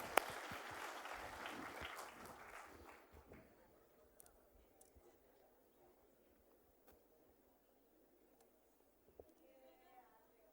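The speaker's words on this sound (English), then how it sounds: "A huge round of applause, guys." Conference audience at a CA students event applauding a paper presenter, a loud burst of clapping at the start that fades away into near quiet over several seconds.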